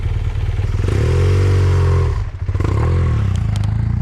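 A motorcycle rides over a potholed dirt track near a campsite, its loud close engine droning and revving, dipping briefly as the bike jolts through a hole before pulling again, with rattles and scrapes.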